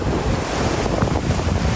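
Steady rushing water flows close by, with a roughness of wind buffeting the microphone throughout.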